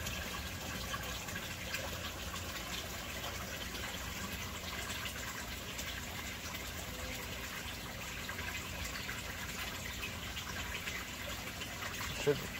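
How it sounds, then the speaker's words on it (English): Water drains from an aquaponics grow bed through a U-siphon as a steady, broadband gushing rush that holds at an even level for the whole stretch, close and continuous, with faint background talk. "here's what happens when it siphon initiates. You see all this water goes away"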